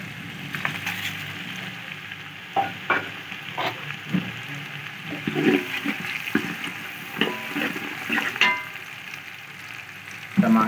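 Whole spices and a spoonful of crushed coriander seed fry in hot oil in a pot, a steady close sizzle broken by scattered pops and spoon scrapes, with no voices.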